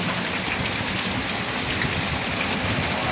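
Steady rain falls at a boat's stern during a storm, a dense, constant hiss of drops with no breaks and no voices.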